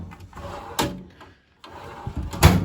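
A US General tool chest drawer slides open and shut with sharp metallic clunks, rolling rattles between them, and a brief quiet gap in the middle.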